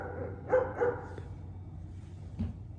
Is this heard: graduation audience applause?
no